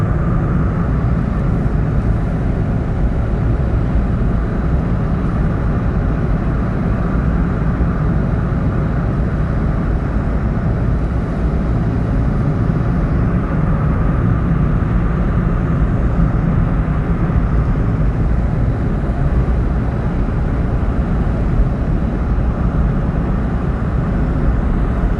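Car engine climbing Angeles Forest Highway (CA-2) in the mountains, held at a fairly steady RPM: a constant loud drone with road and wind rumble, unbroken throughout.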